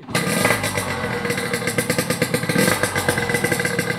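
A Yamaha RX King two-stroke motorcycle engine runs loud and close, a steady rapid rattling idle with rhythmic pulsing throughout.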